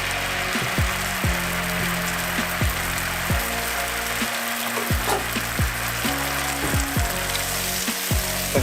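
Vegan butter melting in a frying pan over a high flame, giving a steady broad sizzle that runs without a break, with a low repeating hum beneath it, close and even in level with no talking.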